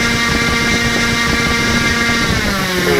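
A small motor spins a propeller at high throttle in a shed, producing a steady, loud droning whine that holds for the whole stretch, with a slight pitch dip near the end.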